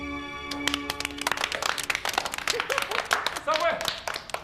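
Scattered hand clapping from family members gathered for a home meeting, brief and uneven bursts running under lively conversation and raised voices throughout.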